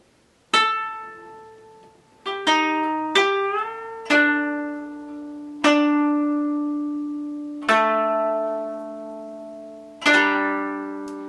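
Plucked koto notes in a slow Kororine rhythm from the first movement of Rokudan, each attack ringing and decaying, with several oshide string bends pressing the pitch upward, solo, clear and close with no talking.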